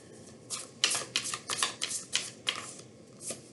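Tarot cards being laid out one at a time for a three-card reading, giving a series of soft, crisp card slaps and slides at a steady, unhurried rhythm, close and fairly quiet with no talk.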